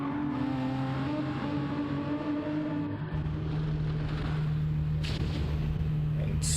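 A 764 Aston Martin race car in a racing video game drives through Le Mans qualifying, its engine holding a steady tonal drone that shifts pitch midway, with a faint voice underneath.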